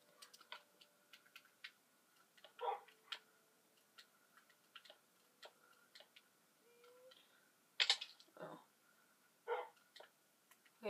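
A dog in a survival building video game gives a few brief, moderately loud barks spread across the stretch, mixed with soft, frequent clicking and ticking from gameplay.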